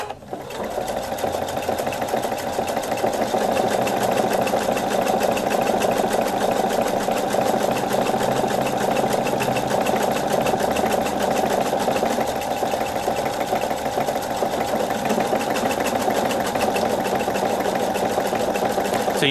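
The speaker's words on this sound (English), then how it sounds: "And then we just start sewing." A Viking Sapphire 960Q sewing machine stitches a buttonhole, its steady rapid needle chatter and motor hum running loud and unbroken for the whole stretch with no pauses.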